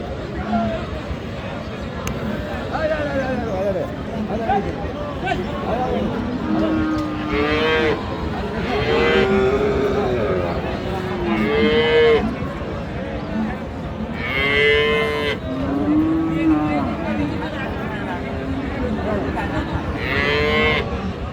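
Cattle moo repeatedly at Raniganj cattle market in Dinajpur, long low calls rising and falling at intervals, over a busy murmur of people talking nearby.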